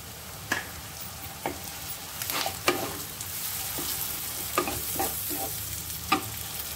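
Salt, chili and turmeric paste frying in a pan, a steady sizzle punctuated by several sharp stirring scrapes and clicks at irregular intervals, with no talking.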